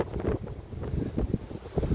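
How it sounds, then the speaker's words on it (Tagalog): Gusty wind buffets the microphone outdoors on a cold, cloudy morning with light snowflakes falling, a steady low roar with rising and falling gusts and no talking. "Mayroong kunting snowflakes at mahangin."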